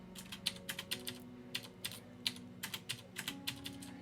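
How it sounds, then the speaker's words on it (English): Someone types in quick, uneven bursts on a computer keyboard, each keystroke a crisp close click at low volume with a faint steady hum underneath. "tap the spacebar on your keyboard"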